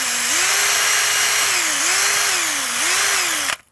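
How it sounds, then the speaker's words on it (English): Power drill bores into a brick wall with the hammer setting off, giving a steady loud whine that dips and rises in pitch three times as load changes, then stops abruptly near the end. "I'm going to drill this, but I'm not going to use hammer setting because I don't want to destroy that bit of brickwork."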